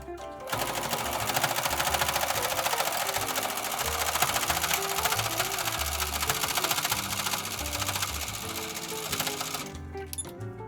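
A sewing machine stitches fabric around curves in a fast, even rattling rhythm, loud and close, running nearly continuously before stopping briefly at the end.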